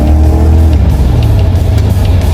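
A Corvette C3, a classic American sports car, accelerates on the road with a loud, steady engine drone and a deep rumble that roughens into a broader roar as it goes.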